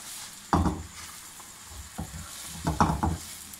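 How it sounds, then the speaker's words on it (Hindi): Chicken karahi with spices is stirred in a pan, giving soft scraping strokes in small clusters over a low, steady sizzle, close and fairly quiet. "अब हम इसको अच्छे से मिक्स करेंगे 1 से 2 मिनट"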